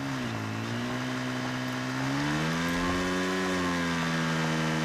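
Video game motorbike engine with a lawn-mower-like tone: a steady, buzzing drone that rises slightly in pitch partway through as the throttle opens, loud and close, with no talk.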